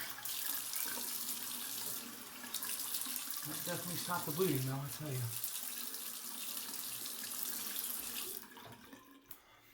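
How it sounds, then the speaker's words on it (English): Cold water runs steadily from a bathroom tap during a wet shave routine, a constant hiss that cuts off near the end, with someone speaking briefly over it. "Cold water."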